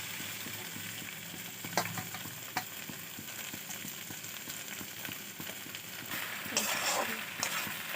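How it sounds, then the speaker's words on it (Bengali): Pasta frying in a pan with tomato sauce, a steady close sizzle broken by occasional scraping clicks as it is stirred. "এবার পাস্তাগুলো দিয়ে আমি একটু ভালো করে নেড়ে চেড়ে ভেজে নেব"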